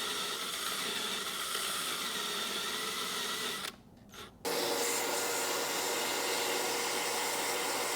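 A vacuum cleaner cleans out a stripped exhaust stud bolt hole, giving a loud, steady broadband whoosh that dips briefly partway through and then resumes at full strength.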